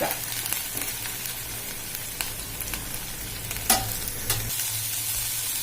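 A mixture of chillies and garlic sizzles and fries steadily over a low flame in a pan, with occasional scrapes and clinks of a spoon stirring it.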